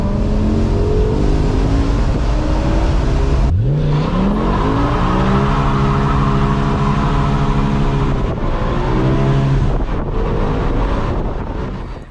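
A BMW E60 M5 on its first drive revs hard, the engine pitch sweeping up through the gears, dropping at each shift and climbing again. Heavy wind and road roar sit underneath throughout, and nobody speaks.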